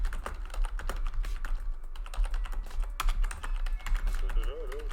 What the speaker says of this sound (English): There might be a lot of typing.